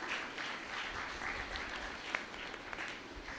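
Church congregation clapping together during a worship service, a steady, dense wash of applause filling the room throughout at moderate, even volume.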